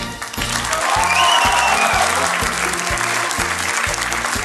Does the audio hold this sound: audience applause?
yes